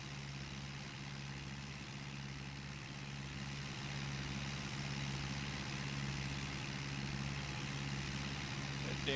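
A Farm 60 tractor in a farming video game drones at a steady, low rumble while hauling a large sugarcane trolley, the engine holding a constant pitch.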